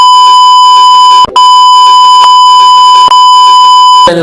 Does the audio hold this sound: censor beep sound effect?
yes